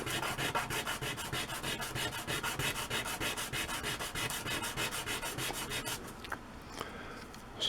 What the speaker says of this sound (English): Using 150 grit sandpaper. First off, I'm going to sand this edge.